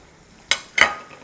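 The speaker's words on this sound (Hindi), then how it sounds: "चले अब इसको थोड़ी देर भूनेंगे इसको अच्छे से" Chicken korma with red chili powder, cumin, garam masala and salt being stirred in a pot, two short scraping clatters of a spoon against the metal over a faint sizzle.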